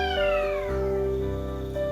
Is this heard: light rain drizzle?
no